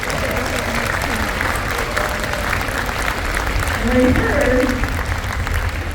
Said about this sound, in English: let's give our teachers a round of applause as well.